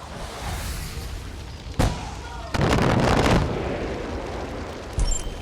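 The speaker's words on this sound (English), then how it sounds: "I'm taking heavy fire!" Heavy gunfire and explosions from the video game Far Cry 5: a sharp close blast, then a longer roaring burst of fire, and another short boom near the end over a constant rumbling combat background.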